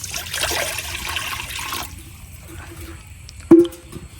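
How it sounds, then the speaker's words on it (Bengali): Water pours into a wok on a lit stove with a short rushing splash, then falls quiet before a single sharp metallic clank. "চুলা ধরাই নিছি, এখন কড়াই দিয়ে দেন পানি।"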